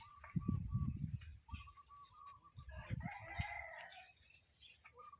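A young rooster crows a few times at moderate distance, the calls strained and uneven, with soft clucking and low farmyard rumble in between.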